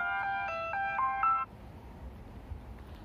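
A mobile phone ringtone plays a bright, repeating melodic tone pattern for about a second and a half, then cuts off abruptly, leaving quiet outdoor background noise on a street with parked cars in Riyadh.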